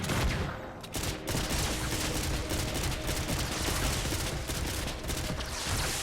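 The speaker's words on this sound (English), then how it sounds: "you start shooting at the cube" Dense, continuous gunfire in Fortnite as a player shoots at the cube in a dungeon mini-boss fight, rapid overlapping shots running loud and steady for about six seconds with no talking.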